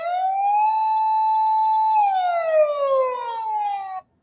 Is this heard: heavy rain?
no